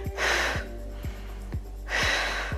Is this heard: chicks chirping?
no